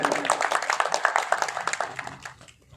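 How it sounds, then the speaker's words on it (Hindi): An audience at a Hindi news outlet's celebration event claps, a close, lively patter of hands that fades out near the end. "इनके लिए जोरदार तालियां।"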